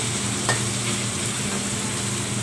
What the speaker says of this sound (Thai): หมูกระเทียม เจียวด้วยกันเลยนะคะ ผัดก่อนนะให้หอม